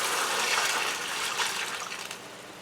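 Leftover smoked turkey wing broth poured into a pot for kale greens, a continuous splashing gush of liquid for a few seconds that eases toward a trickle at the end.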